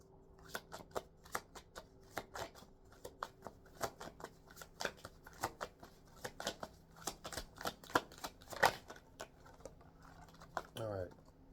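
Tarot cards are shuffled in a rapid series of soft riffling flicks and taps, close and quiet, with a person speaking faintly underneath.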